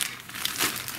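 A plastic yarn grab bag from a wool shop crinkles and rustles as it is handled and opened, a steady close crackle lasting about a second with no talking.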